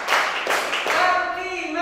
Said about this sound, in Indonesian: Tepuk satu, tepuk dua, tepuk tiga, tepuk keempat